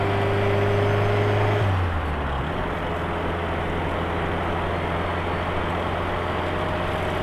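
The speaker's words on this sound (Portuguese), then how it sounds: "aí de novo, acelerei de novo." Fiat Elba car fitted with aftermarket fuel injection, its engine holding a loud steady drone that drops in pitch, then settles into a lower, rougher, continuous engine rumble, close and without talking.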